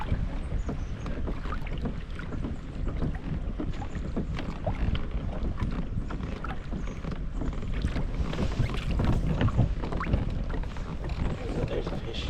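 Wind gusting and small choppy waves slapping around a kayak on open water, a constant close rumble of wind buffeting with splashing texture throughout.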